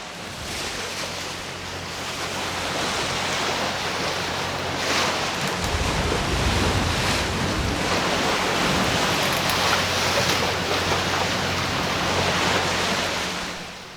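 Atlantic Ocean waves wash and roll around a sailboat far out at sea, a loud broad rush of surf mixed with strong wind buffeting, rising and swelling with no one speaking.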